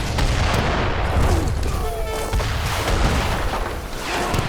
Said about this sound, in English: Mortars being used as anti-longbow units.